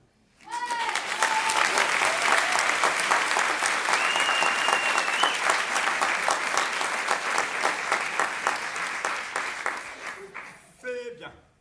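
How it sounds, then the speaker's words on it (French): A live comedy show audience bursts into sustained, loud applause that holds steady for about ten seconds, a few whoops rising above it before it fades to scattered claps. "vous applaudissez."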